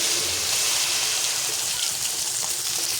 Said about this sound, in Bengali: এই যে এখানে পানি দেওয়া হচ্ছে।